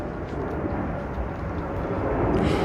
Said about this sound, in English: There's just an aeroplane going past.